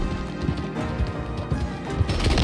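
Horse hooves clip-clop in the video game Red Dead Redemption 2, a quick run of close, rhythmic thuds over a low game ambience, with no talking.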